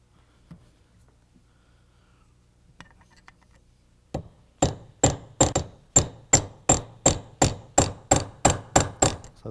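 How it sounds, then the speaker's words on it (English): Hammer riveting a brake servo lining on an early post-war Rolls-Royce: after a few quiet taps, a run of about fifteen sharp, ringing metallic blows lands at a steady, brisk rhythm, close and loud, with no talking. "that completes that process of riveting on the servo lining"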